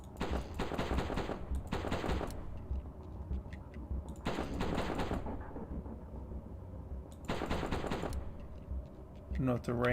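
Gunfire in a haunted PS1-style indie horror shooter, with several loud bursts of rapid fire separated by quieter stretches and a sharp clatter near the end.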